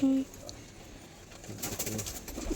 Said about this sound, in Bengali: এই যে সমস্ত কবুতরগুলো ধরা হচ্ছে